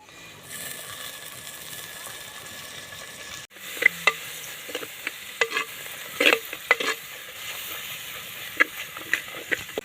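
A spice tempering with turmeric and mint fries in oil for a Telangana-style country chicken curry, with a constant close sizzle broken by clinks and scrapes of a stirring spoon.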